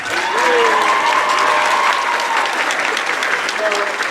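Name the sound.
concert audience applause for clarinets and saxophones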